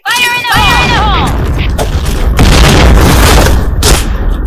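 Grenade blasts and gunfire roar close and loud through a Point Blank shooter match, dense booming bursts layered over an electronic chirp at the start, continuing without pause.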